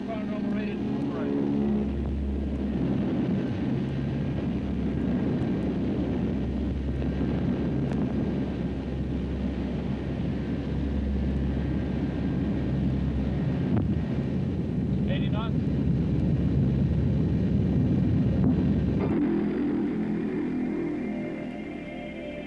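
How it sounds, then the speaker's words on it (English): A P-3 Orion four-turboprop aircraft takes off at full throttle, heard from on board as a loud, continuous roar with a deep low drone and wind-like rush that holds throughout. "At the start of a patrol, during takeoff, the 4 throttles are held wide open"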